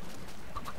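A few quick, evenly spaced Minecraft chicken clucks sound over a steady low background hum.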